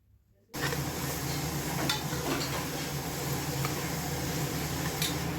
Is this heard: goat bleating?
no